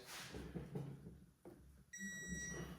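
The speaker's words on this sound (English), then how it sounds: "having the ability to feel the vibration and hear the beep is pretty awesome" A few clear electronic beeps from a digital torque wrench at the end, steady high tones sounding after soft clicks and handling noise.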